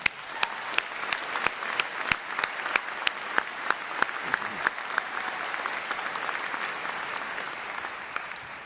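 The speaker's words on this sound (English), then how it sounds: "A round of applause again for Joseph and them." Audience applause at a 2023 commencement ceremony, a broad steady wash of clapping from a large crowd with a few sharper individual claps standing out, tapering off slightly toward the end.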